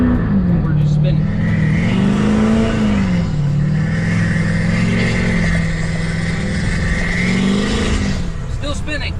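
A heavy Chevy 2500 diesel truck engine revs and drones while its tires spin on a rainy day, the pitch wavering up and down before easing off near the end.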